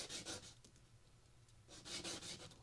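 The carburetor needle from a 1970 Honda CL100 is rubbed on sandpaper in short back-and-forth scratchy strokes, a burst of several quick rubs, a pause, then another burst, faint and close.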